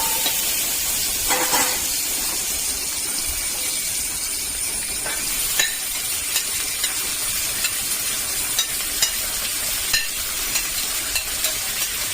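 Coconut slivers, onion, ginger, green chilli and garlic sauté in oil for a Kerala crab curry, hissing steadily with a clatter early on and light regular spoon taps through the second half.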